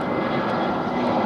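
An EasyJet airliner passes overhead near Luton Airport Parkway station, a brief, steady broadband jet roar at moderate loudness.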